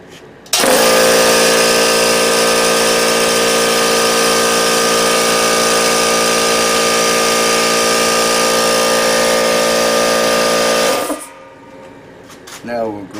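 An old pantograph machine runs steadily with a loud, continuous mechanical hum and whine for about ten seconds, then shuts off and leaves faint room noise.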